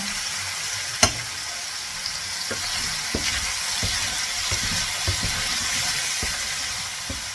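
Butter sizzles and fries steadily in a pan for chicken heart goulash, a continuous hiss with occasional small pops and one sharp clink near the start, heard alone without speech.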